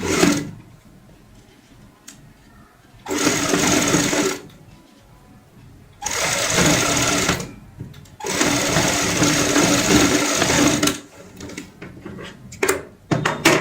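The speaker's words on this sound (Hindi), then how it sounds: "इस तरीके से यहाँ पे सिलाई से इसको बंद कर लेंगे" A sewing machine stitches cotton-stuffed strips of an old-cloth doormat, running in loud sustained bursts of a few seconds each, separated by quieter pauses and light handling noises.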